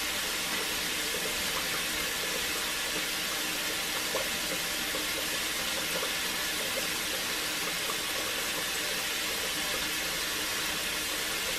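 Tap water runs into a sink during face washing, a continuous, even rushing hiss of moderate loudness lasting throughout with no voices.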